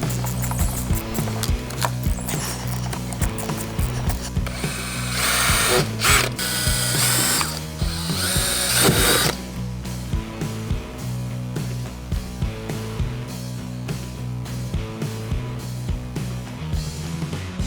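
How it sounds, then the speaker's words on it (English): Ratcheting and mechanical clicking while a fitting is screwed in during rigging of a Bonafide PWR 129 fishing kayak, a steady stream of close, rhythmic clicks with a busier, noisier burst midway. "I just need to now screw this in."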